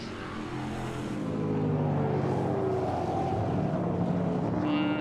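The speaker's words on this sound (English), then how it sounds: "Stephen Davison just going past our commentary position, racing in TA4" Trans Am race cars passing a commentary position during a TA4 race at Mid-Ohio, a loud continuous engine roar that swells as cars go by, with wind buffeting the microphone.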